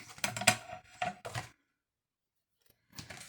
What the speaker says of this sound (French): vous prenez une paire de ciseaux.